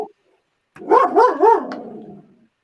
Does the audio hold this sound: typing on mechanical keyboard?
no